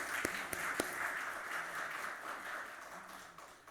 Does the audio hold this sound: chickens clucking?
no